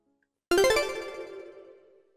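A doorbell chime rings once, with a quick run of bright melodic notes that ring out and fade over about a second and a half, heard alone in a quiet room.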